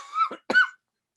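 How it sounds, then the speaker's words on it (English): A man coughs twice in quick succession, close and fairly loud, followed by silence. "I'm starting to cough up."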